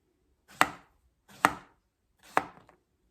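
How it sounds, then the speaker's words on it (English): Three separate, evenly spaced knife strokes chop through bread for a panzanella salad, each a sharp close thunk on a cutting board with brief tails of rustle. "I'm just gonna slice it, cubes about like that."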